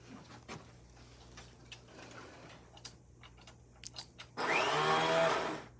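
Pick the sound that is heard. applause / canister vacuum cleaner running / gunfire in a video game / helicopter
canister vacuum cleaner running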